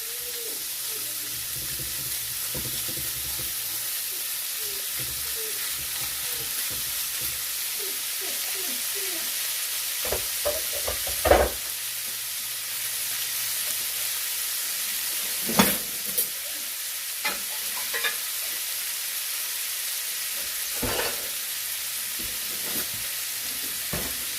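Chunks of salted ribeye steak sear hot and fast in a pan, a steady loud sizzle running throughout with occasional sharper pops and spatters near the middle and end.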